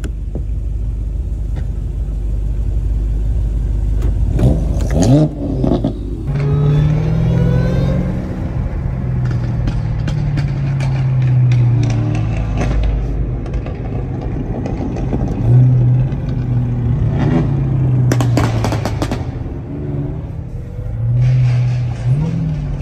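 A car engine revs and accelerates close by, a deep rumbling drone that rises and falls in repeated pulls with brief shifts between them, loud and steady throughout, with little talk over it.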